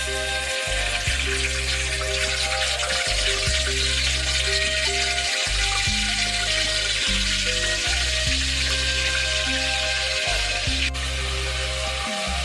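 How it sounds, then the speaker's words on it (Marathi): Ginger paste frying in hot oil, a continuous close sizzle and crackle over a low hum that starts and stops at several points. "तेल गरम होऊन द्यायचं. अद्रक पेस्ट टाकून देतो."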